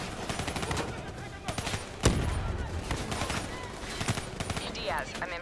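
Sustained gunfire in Black Ops 3, dense rapid automatic shots with explosions in a chaotic battle, under a voice talking.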